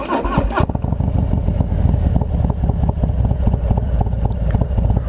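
Harley-Davidson motorcycle with a 114 motor and S&S 475 cam, heard while riding, a loud deep throbbing engine rumble with steady loping pulses, close and continuous after a brief noisy start.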